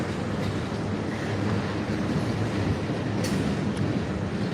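Regular freight train passing close by, a loud continuous rumbling roar of rolling wagons with faint rhythmic rattling throughout.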